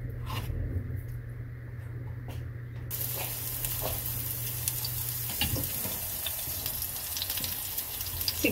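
Salmon burger patties fry in hot oil in a pan, giving a continuous close, bright sizzle that swells and crackles slightly and runs steadily throughout with no talking.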